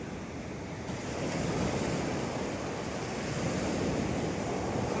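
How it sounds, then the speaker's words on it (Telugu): Big ocean waves roll in and crash on the shore at Pondicherry, a loud, continuous roar of surf with wind buffeting the microphone. "పెద్ద పెద్ద అలలు వస్తున్నాయి"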